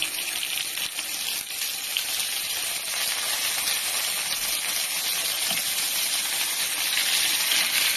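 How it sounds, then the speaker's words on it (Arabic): Chicken drumsticks sear in ghee and a little oil over high heat, giving a steady, loud, close sizzling hiss that runs the whole time without a break and with no talk. "همسك الدبابيس بتاعتي بعد ما سبتها المده الكافيه هشوحها على الناحيتين على نار عاليه"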